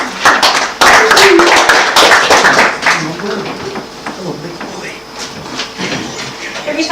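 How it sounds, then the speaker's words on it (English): Audience applause at a publishing house's open mic night, a dense burst of clapping that swells loud early, then thins and tapers, with voices mixed in around it. "Every time we clap"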